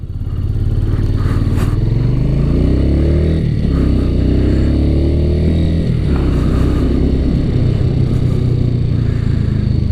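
A 2017 Suzuki TU250X motorcycle is ridden at a steady pace, its single-cylinder engine thrumming loud and close under rushing wind, with pitch sliding through gear changes and no talk.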